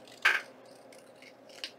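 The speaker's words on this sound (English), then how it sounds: "Then I'm going to bring in my scissors and we're just going to trim." A couple of sharp scissor snips trimming paper, close by, separated by a quiet pause against a soft room background.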